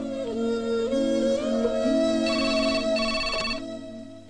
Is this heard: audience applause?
no